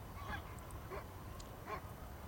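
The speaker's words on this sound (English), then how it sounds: "There's Angel, our guard dog. She's barking at us" Three faint, distant barks from a guard dog on a ranch, spaced about a second apart, carried over a steady low rumble of wind or background noise.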